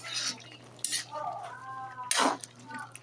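Metal lid lifted off a cooking pot of papaya and pork stew, sharp clinks and scrapes at the start, middle and near the end of the clip, with brief ringing metallic tones between them, close and fairly clear.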